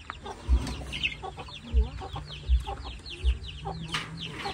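Rhode Island chickens clucking inside a chicken barn, steady close clucks and chatter from several hens with short low thumps recurring about every second.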